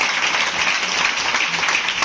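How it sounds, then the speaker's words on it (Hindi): Loud, dense applause from a seated audience at a motivational business talk, sustained and even throughout with no voices over it. "बैठ जाइए, एक जोरदार ताली दोनों के लिए।"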